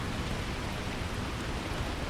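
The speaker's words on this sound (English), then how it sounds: "it's raining" Steady rain falls across the city of Neon in the Starfield video game, a dense, even hiss that holds at the same level throughout with no voices over it.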